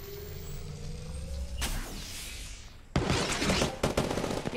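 Enemy gunfire in the mobile battle royale game Apex Legends Mobile, heard as a burst of rapid shots followed by louder, denser volleys toward the end, with vehicle-like rumble in the background and no talking.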